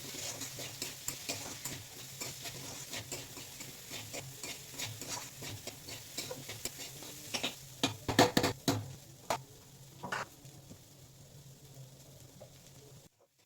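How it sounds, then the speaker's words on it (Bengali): Rice and lentils frying in oil in a pan as a homemade Bengali dish cooks, with a steady sizzle under frequent scraping stirs, and a few louder clatters of the spoon against the pan near the end. "চাল আর ডাল ভালোভাবে একটু ভেজে নিলাম"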